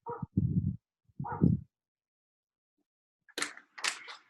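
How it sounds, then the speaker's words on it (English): A dog barks in a home, a few sharp separated barks near the start, then a pause before a higher, yelpier pair of barks or whines near the end. "Please stop barking."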